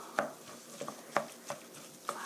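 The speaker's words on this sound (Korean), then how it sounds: "주걱으로 마구 섞어주세요." Potato salad made from mashed potatoes being mixed by hand with a spatula in a bowl, giving a few soft, irregular taps and scrapes, quiet and close, with no one talking.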